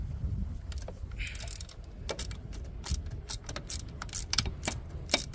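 A small ratchet turns a long 8 mm socket to undo a bracket bolt on a 1.6 HDI DV6 diesel engine while the EGR valve is removed. Faint, irregular metallic clicks sound over a low background rumble.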